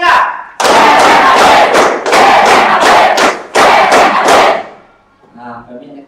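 A class of students claps in loud, powerful unison bursts while chanting a yell together, three strong rounds separated by short pauses, then fading to quieter voices.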